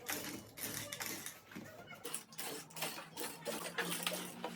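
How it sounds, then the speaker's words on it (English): A sewing machine stitches a strap onto the body of an Ankara fabric and leather bag, giving quiet rapid mechanical ticking in short runs with brief stops, fairly faint and close. "I'm going to be sewing the strap to this body now."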